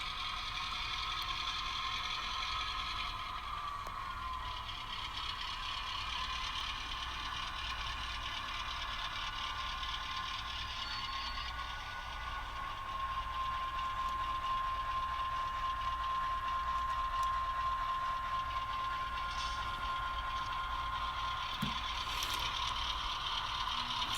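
An N scale model train engine running on a layout, giving a steady, close mechanical whir with a thin tonal whine and faint gear chatter throughout, with nobody talking.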